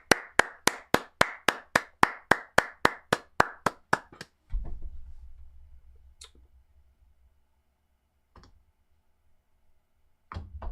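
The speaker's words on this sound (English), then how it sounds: "I don't often clap comments, but I will clap that one" About a dozen sharp hand claps in a steady, quick rhythm from one person, close and loud, then a low rumble and quiet room noise with a couple of faint clicks.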